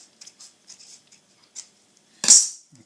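Small soft scratches and snips trimming the edge of a scratch-built model goods shed, faint and close, ending in one louder crisp cut.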